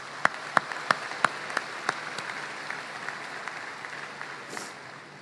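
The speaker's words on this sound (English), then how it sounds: "Let's give them a round of applause." A commencement audience at Atholton High School's 2022 graduation applauds the staff with steady, moderately loud clapping. A few sharp, close claps stand out at the start before the clapping fades toward the end.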